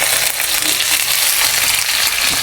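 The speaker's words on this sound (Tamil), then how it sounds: "அப்படியே கொஞ்சம் வெந்தயம் போட்டுட்டு கருவேப்பிலை" Fenugreek seeds and curry leaves fry in hot oil for a Jaffna dried-fish curry, giving a steady, loud, close crackling sizzle that runs unbroken through the whole short stretch with no talking.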